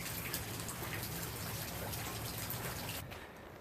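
Faint steady rain falls near a chicken coop, a soft, dense patter of drops hissing continuously on surfaces and easing slightly in the last moment, with no voices.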